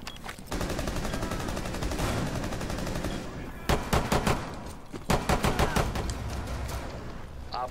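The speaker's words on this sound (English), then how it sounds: "It's a shotgun, Danny." Shotgun blasts in the game Rainbow Six Siege: dense rapid gunfire fills the opening seconds, then two bursts of sharp, loud repeated shots ring out separately, with no voices over them.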